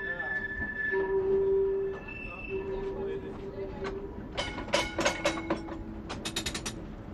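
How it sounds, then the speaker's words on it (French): An old vintage tram runs at night in Thuin, with a rumbling wheel drone, sustained tonal wheel squeals and a burst of sharp metallic clanks and rattles toward the end, nearby and moderately loud. "nous avons découvert par hasard le tramway, le vieux tramway ancien"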